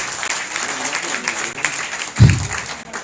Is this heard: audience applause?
yes